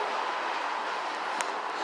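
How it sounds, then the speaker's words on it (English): A train passes close to an apartment complex, giving a steady, loud rumble and rolling hiss throughout, with one brief sharp high click near the end and no talk. "I'm recording a train on my phone."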